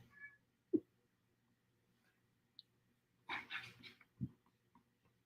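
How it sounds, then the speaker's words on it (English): A pet cat and dog chase each other around indoors, with a sharp thump, a quick scuffle and brief whimpering yelps rising from faint, quiet surroundings in short, scattered bursts. "And now my cat and my dog are chasing each other."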